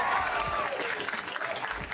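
Audience at a youth poetry slam claps and cheers, dense applause close and loud with a voice calling out above the crowd noise.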